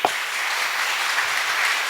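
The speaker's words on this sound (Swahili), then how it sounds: "Apige makofi." A crowd applauds at a career talk for young adults, a continuous even patter of many hands clapping, fairly loud and sustained throughout.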